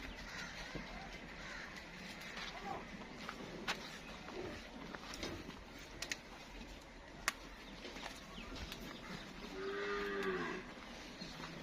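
A Friesian Cholistani cross cow gives a single drawn-out moo near the ten-second mark, set against steady outdoor farm ambience with faint birds and scattered clicks.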